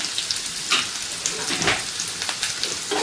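Onion and whole spices for Karnataka vegetable pulao sautéing in a pan, a loud close sizzle broken by repeated stirring scrapes and bursts of crackle.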